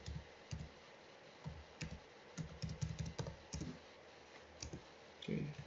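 Keys clatter on a computer keyboard in quick irregular bursts of clicks with short pauses, close and fairly quiet.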